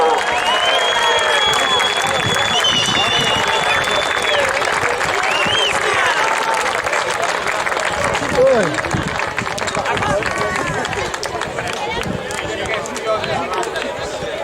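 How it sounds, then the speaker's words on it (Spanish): Spectators applaud the champions of a youth mixed handball tournament at a trophy ceremony in Baiona, with sustained crowd clapping, cheering and chatter that continue steadily, loud and close, alongside whistles and voices. "Un fuerte aplauso."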